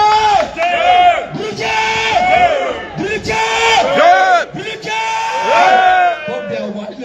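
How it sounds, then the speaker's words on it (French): A loud, close crowd shouts and chants in repeated bursts with rising and falling voices at a UN gathering in the UK, the cheering surging in waves with short pauses between. "L'acclamation."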